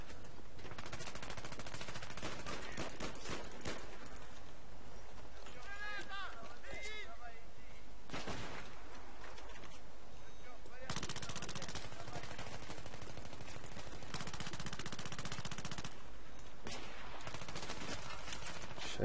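Battlefield 3 gunfire crackles in rapid machine-gun bursts and scattered shots, fairly close, with someone talking over much of the shooting.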